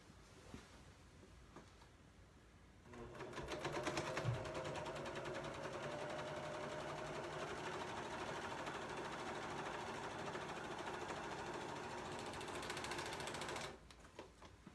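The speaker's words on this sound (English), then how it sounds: "So I'm going to go ahead and serge this real fast" A serger overlock machine stitches along the cut edge of knit fabric for a children's t-shirt dress, a loud, steady mechanical whir of rapid needle and looper action running continuously for about ten seconds after a short start.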